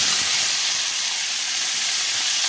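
Tomatoes drop into hot oil with popped mustard seeds for a Bengali-style tomato chutney, giving a loud, continuous hiss of sizzling steam that holds at full strength for a couple of seconds, close by and without talk.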